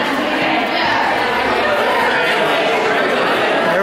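A raucous crowd packs a gallery exhibition opening, a loud, continuous wash of overlapping chatter and voices filling the room without pause.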